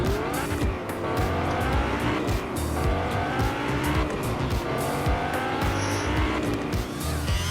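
A car races around a track in the video game Fortnite's Battle Lab, its engine droning steadily and loudly with repeated tire squeals through the turns, and no talk.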